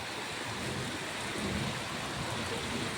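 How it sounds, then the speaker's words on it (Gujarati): Heavy rain pours down in a dense, continuous wash of noise, loud and steady throughout with no voices. "વરસાદ આવી ગયો"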